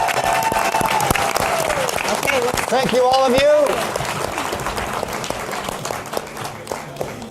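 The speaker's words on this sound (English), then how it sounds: "One last round of applause for our winners and our contestants." Audience applause for the winners and contestants at an entrepreneurs' challenge event, a loud, dense crowd clapping that holds steady across the clip, with some cheering and a voice speaking over it briefly.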